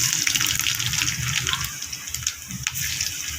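Garlic dropped into hot oil already seasoned with cumin seeds and a dried red chilli, giving a loud, steady hiss and sizzle with crackling pops, close and without talk.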